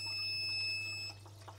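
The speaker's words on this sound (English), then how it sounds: "just to show you what the alarm will sound like once this gets past the sensor" An aquarium auto top-off unit sounds its low water level alarm on a Waterbox tank, a steady high electronic tone held for about a second before cutting off, followed by faint water trickling.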